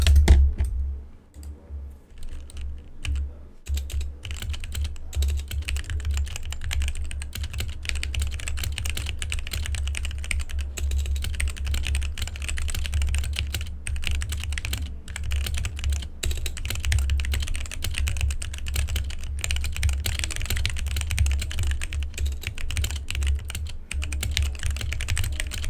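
A modded Gamakay GK87 mechanical keyboard with a tempest and tape mod is typed on steadily for around twenty-five seconds, giving dense, rapid, close-up thocky keystrokes with no voice.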